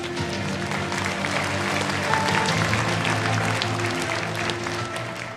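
Conference audience applause at the 2023 HWPL Global Peace Leaders' Conference main session, a steady, dense wash of clapping from a large hall that holds evenly loud throughout, with no one speaking over it.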